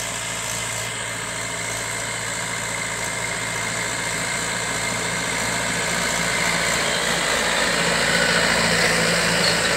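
A Mahindra 475 tractor pulling a harrow runs steadily at about 1100 to 1200 RPM, its loud, close engine a continuous low drone with a rough vibrating texture and no talk over it.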